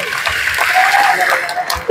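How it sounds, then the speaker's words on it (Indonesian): Audience clapping after an auction sale at a lively gathering, a short continuous patter of hands mixed with voices and light laughter. "Tepuk tangan semua."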